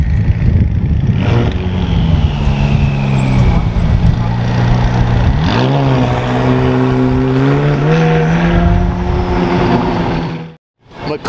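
A McLaren 570 wearing a Novitec kit, front lift lowered, drives by with a loud, close engine drone whose harmonics swell and shift pitch as it revs and passes, holding steady for about ten seconds before cutting off abruptly.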